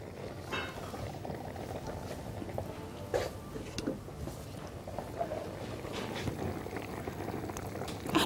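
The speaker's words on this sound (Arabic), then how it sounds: "اول حاجه هنعملها عايزين نسيح شويه السمنه بتاعتنا" Ghee melting in a pan on the stove for making warbat with cream gives a quiet, steady low bubbling and faint sizzle, with a few soft clicks and no talking.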